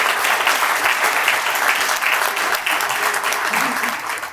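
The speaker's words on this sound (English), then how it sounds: "we give them a big round of applause" An audience at the 2022 Fountain Valley State of the City event applauds the board of directors, with steady, dense clapping that holds at full strength for about four seconds before easing slightly at the end.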